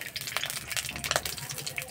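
Whole cumin seeds fry in hot white oil in a wok with soft, scattered crackling and small sizzling pops at a fairly low level, near and with no talk.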